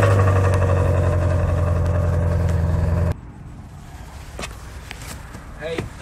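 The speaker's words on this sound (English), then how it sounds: "it's got an exquisite exhaust" A 2016 Ford Mustang Shelby GT350R with track pack and upgraded exhaust, a loud, deep steady engine drone that cuts off abruptly midway, leaving quieter ambient noise behind.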